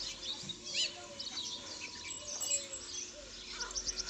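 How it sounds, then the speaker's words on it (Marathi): Several birds chirp and tweet in a busy morning chorus in a tree, small calls overlapping against steady background noise, fairly distant. "इकडे सकाळ सकाळ पक्ष्यांच्या झाडावर किलबिलाट चालू"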